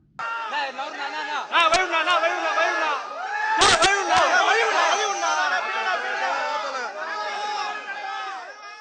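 Crowd of fans shouting and cheering outside Rajinikanth's house on Diwali, many overlapping voices whooping in a continuous roar, with a few sharp claps or bangs mixed in.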